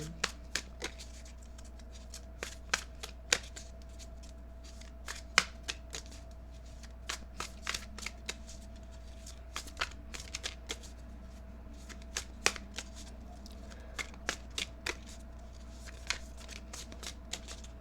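A deck of tarot cards being shuffled by hand to draw a single card, a steady run of crisp, close riffling clicks and flutters over a faint low hum, with no talking.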